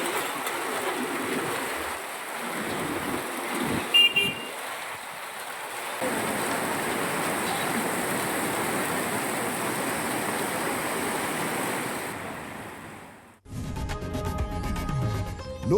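Unseasonal rain falls steadily in Satara, a continuous broadband hiss of downpour that holds for over twelve seconds before cutting to a different, busier sound near the end; no voices.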